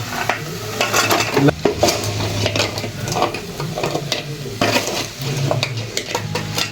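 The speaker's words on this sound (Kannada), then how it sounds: "ಇವಾಗ ಮಿಕ್ಸಿಂಗ್ ಕಾರ್ಯಕ್ರಮನ ಹಚ್ಕೊಂಡಿದ್ದೀನಿ ಮಿಕ್ಸ್ ಮಾಡೋಣ" Cauliflower gobi tossed with masala in a pan, with steady scraping and stirring clatter of a utensil against metal over a continuous frying sizzle, loud and close throughout.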